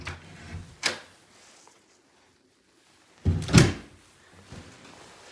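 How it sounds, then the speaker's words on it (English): Closet door opening in a bedroom with doghouse dormers, heard as two separate wooden knocks or clicks followed by a louder rattling thump, close and otherwise quiet. "And a closet behind the door here."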